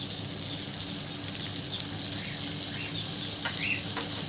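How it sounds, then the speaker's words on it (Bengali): Turmeric, coriander and cumin powders with ginger paste fry in a pan, making a constant, close hissing sizzle that stays even from start to finish. "মশলাটা খুব ভালো করে কষিয়ে নিয়েছি"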